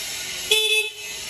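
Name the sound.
electric scooter horn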